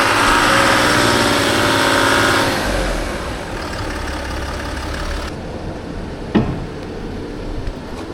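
A rebuilt Land Rover Discovery 4 engine, running in its second turbo stage, holds near 3000 RPM with a loud, steady drone and turbo whine. It then eases back to a lower, quieter running note, and a short sharp noise comes near the end.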